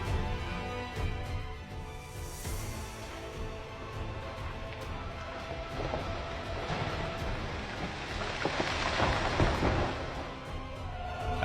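Heavy storm rain on the Central California coast, a dense steady hiss of downpour with a louder rushing swell in the second half, mixed with low wind rumble and no voices.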